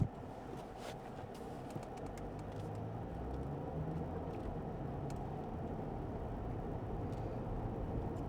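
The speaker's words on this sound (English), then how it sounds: "Traffic," Road traffic rumbles steadily outdoors as a low, continuous wash of passing cars, with faint chirps of birds now and then above it.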